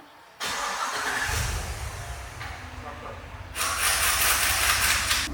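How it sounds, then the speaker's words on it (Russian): A Kia K2 engine with a modified camshaft profile idles after a rebuild, a steady rough hum with hissing close by that grows louder partway through, as though a hood or door is opened, while someone talks over it. "Мотор работает ровно, но чуть более грубо, чем в оригинале, потому что профиль распредвала отличается"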